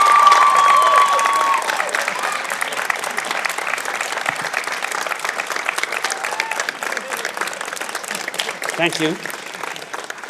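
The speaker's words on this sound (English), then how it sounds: "give a rousing round of applause for your supporters" A graduation ceremony audience gives a rousing, sustained round of applause for the graduates' supporters, dense and loud with some cheering. A voice over the crowd says a brief thanks near the end.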